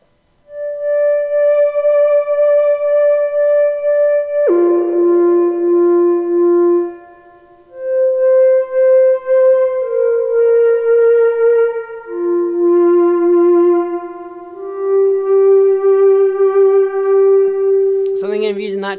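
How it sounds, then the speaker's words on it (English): A bright Moog Grandmother synthesizer lead plays a slow melody of sustained, buzzy notes sliding between pitches, with a brief gap midway and a short warble at the end. "I've been playing around with my beautiful Moog grandmother synth, just coming up with some lead sounds"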